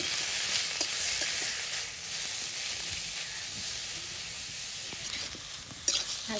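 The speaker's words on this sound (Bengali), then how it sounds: "হালকা করে অল্প একটু লাল লাল করে ভেজে নিন।" Bottle gourd fries in ghee in a pan, a steady close hiss and sizzle running throughout with occasional faint stirring clicks and no talk.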